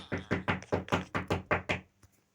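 Knocking on a door in the video game Minecraft: about eight evenly spaced, fairly loud knocks in a steady run, then silence.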